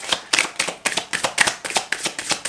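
Close, rapid riffling of a tarot card deck, a quick run of papery flutters and snaps in even rhythm.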